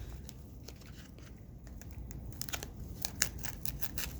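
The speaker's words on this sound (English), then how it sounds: "You're going to cut all the way through." Scissors cutting through a foam pool noodle for a craft plushie, giving a continuous soft crunching and snipping texture with a few sharper cuts near the end, close-up over a low background hum, with no voices.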